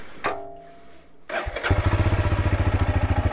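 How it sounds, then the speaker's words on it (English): A Royal Enfield Himalayan single-cylinder thumper motorcycle cranks with a brief starter whir, then fires up close and settles into a steady, deep, evenly pulsing idle. "Oh, the classic sound of a thumper."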